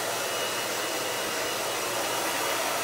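A hair dryer roars continuously at close range during a rough blow-dry of hair, a steady broadband whoosh with no pauses and no speech.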